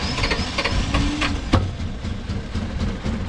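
A motor with water spitting from its exhaust runs at a homemade redneck wave pool, giving a steady rough idle-like drone with rhythmic chugging pulses and a sharper knock partway through, fairly close.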